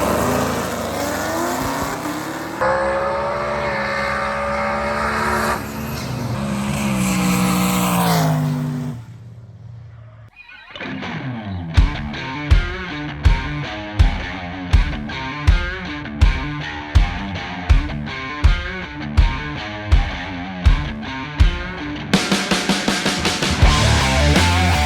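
A 2012 Chevrolet Camaro ZL1 V8 roars loudly on the street, first a long sustained drone with shifting pitch, then a brief dip before a sharp run of evenly spaced revving bursts and a final loud surge.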